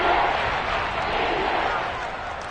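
Seahawks home crowd noise in a football video game, a steady dense stadium roar filling the background while a commentator talks over it.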